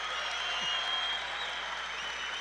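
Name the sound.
standing ovation from the crowd at wrestling championships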